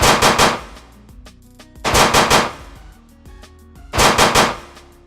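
Rapid bursts of prop-gun fire dubbed for a film scene, three loud machine-gun volleys spaced about two seconds apart, each a dense rattle of shots with quieter ringing tails and debris between them.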